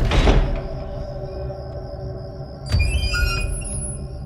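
A door creaks open with a thump, then swings shut again with a high drawn-out squeak and faint rattles, close and clear with no talking.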